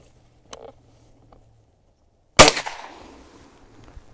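A Daisy VL air rifle fires a round with one sharp, loud crack and a short decaying tail outdoors, preceded by a couple of small clicks and faint handling noises.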